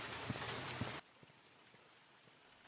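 Rain falls in the horror video game The Mortuary Assistant, a dense hiss with scattered drips that cuts off abruptly partway through, leaving a much quieter background with faint isolated drops.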